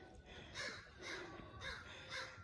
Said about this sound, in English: What are those crows doing